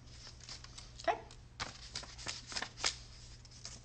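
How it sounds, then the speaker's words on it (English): Scissors cutting a straight line halfway into folded paper, a few soft crisp snips and rustles spaced irregularly, close and fairly quiet with no talking. "you're going to use your scissors to cut a straight line just about halfway"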